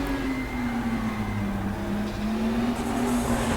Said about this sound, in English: Turbo wastegate chattering away